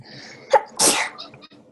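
A single close, sharp sneeze with a brief inhale before it, in an otherwise quiet room.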